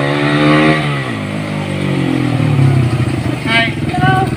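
A Raider motorcycle engine runs close by, its pitch rising and falling as it revs, loud and continuous, with people talking over the end.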